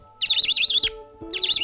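A baby budgie gives two bursts of rapid, warbling high chirps while being hand fed, close and clear, with a short pause between them.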